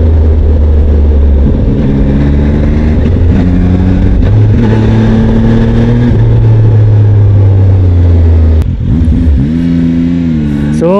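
Zontes 703F motorcycle engine revving loudly and close, with repeated rising and falling throttle blips over a steady, smooth idle, then a sharp jump in revs near the end.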